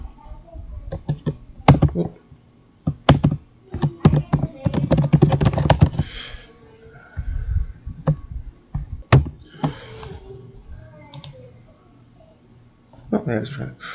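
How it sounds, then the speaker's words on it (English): Rapid clicking keystrokes on a computer keyboard come in uneven bursts and pauses, close to the microphone, with a voice speaking between some of the typing. "Now I'm going to go ahead and type."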